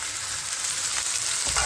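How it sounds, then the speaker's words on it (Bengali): Chopped onions fry in a pan with a steady, close sizzle that holds evenly through the short stretch, no voices over it. "পেঁয়াজ যখন সব কিছু ভাজা ভাজা হয়ে আসবে"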